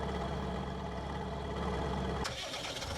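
Bison Super combine engine in Farming Simulator 20, a steady loud mechanical drone that holds evenly and then shifts in tone near the end, with no voices.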